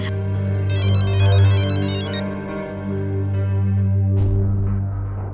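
A telephone rings loudly and close, its electronic ringtone playing a repeating melodic pattern with bright warbling tones over a steady low hum, no speech over it.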